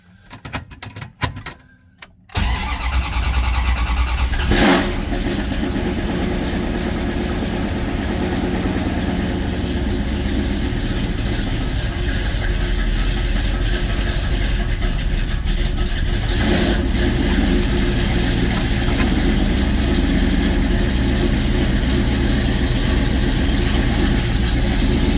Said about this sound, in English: We'll fire it up, see how she does.